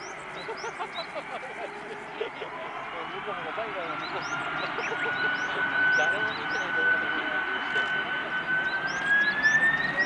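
An ANA jet airliner in special livery taxis at Hiroshima Airport, its steady engine whine and broad rumble building slightly over time, with faint chirping and a soft voice in the background.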